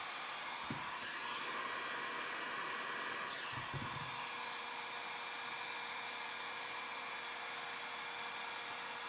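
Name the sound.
heat gun heating a CRF450 number plate graphic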